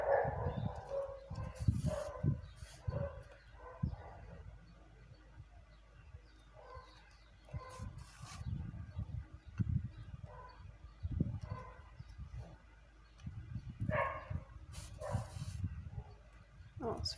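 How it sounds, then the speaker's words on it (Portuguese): Several dogs bark in bursts somewhere nearby, moderately faint and intermittent across the stretch, while someone talks quietly over them. "Ai, começou a cachorrada."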